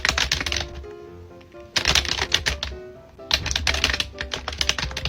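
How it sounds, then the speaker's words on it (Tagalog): A computer keyboard that was supposed to be muted clacks loudly as someone types, in three dense bursts of rapid keystrokes separated by short pauses. "Kasi ang ingay ng keyboard ko."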